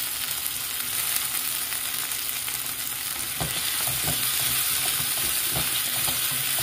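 Chopped onion and tomato fry in hot oil in a pan, a steady close sizzle with a few soft stirring knocks partway through, no voices.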